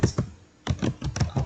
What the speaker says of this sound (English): So you can type this command sudo apt